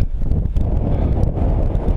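Strong wind buffets the microphone on a mountain ridge crest near Monte Alfeo in Liguria, a steady loud low roar with gusty surges throughout and no talk.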